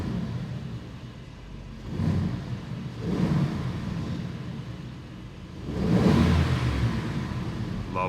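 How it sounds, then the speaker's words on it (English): A 2024 Aston Martin Vantage V8 with its exhaust fitted, revved several times in short swelling bursts over a steady idle rumble, the last rev loudest. "Let me just give you a few revs."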